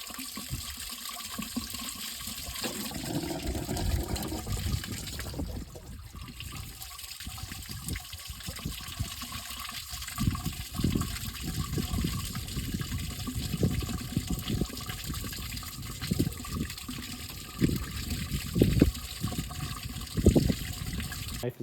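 Water rushes and gurgles through a demolition derby car's radiator and coolant system as it is flushed, a steady splashing flow with uneven surges and no talking.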